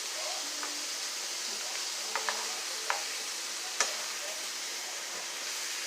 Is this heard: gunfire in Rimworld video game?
no